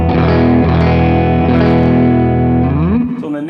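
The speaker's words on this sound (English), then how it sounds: "So on the neck pickup, it's more pronounced that there is overdrive happening there." Overdriven electric guitar on the neck pickup through a Purdy MP 18 tube amp, a loud sustained chord ringing with slight grit, then a fresh pick attack and fading notes near the end.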